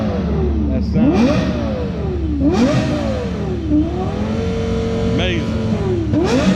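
A Lexus sports car at the Goldrush Rally in Dallas revs hard several times in close succession, each pitch climbing and falling back, with a loud, rasping exhaust note through a three-tip exhaust and voices talking over it.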